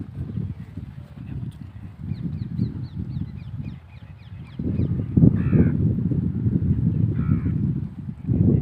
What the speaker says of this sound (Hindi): जो पक्षी चहचहाट कर रहे हैं उनकी आवाज़ सुनाई दे रही है